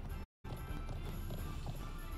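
A horse galloping in the video game Conqueror's Blade, a steady run of hoof clip-clops under constant game noise with a speaking voice, broken by a brief dropout near the start.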